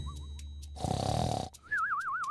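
A wolf snoring in a children's bedtime story, shown as one long, loud, rough snore between whimsical whistling effects.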